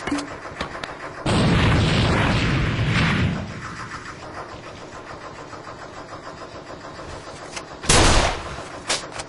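A thrown grenade blasting in the A.V.A shooter game: a loud roaring burst lasting about two seconds, then a quieter rumble and a second short, sharp detonation near the end.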